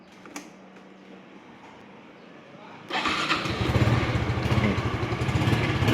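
A 2019 Honda Wave 110i motorcycle with a kick starter fires up after a quiet stretch, then settles into a steady, close, rapid idle putter.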